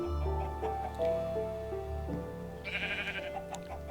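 Several bleats from a milk sheep in a modded video game, one after another over steady background music, with a brighter cry near the end.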